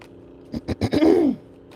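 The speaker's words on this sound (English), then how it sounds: "I'm having to clear my throat" A single short throat clear, a few rough bursts ending in a brief voiced grunt, close and fairly quiet.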